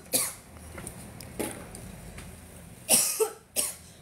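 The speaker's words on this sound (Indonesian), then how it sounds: "Aduh, batuk aku kumat." A person coughs in several sharp bursts, with single coughs early and a tighter cluster near the end, close to the microphone with quiet gaps between.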